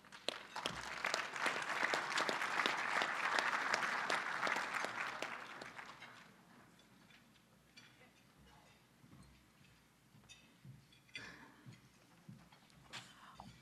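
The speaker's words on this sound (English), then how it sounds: "Let's give your supporting cast, your teammates, coaches, and family members a round of applause for getting you to this moment today." Banquet crowd at a hockey award ceremony gives a round of applause for award players, dense clapping for about six seconds before thinning to a few scattered claps and quiet room noise.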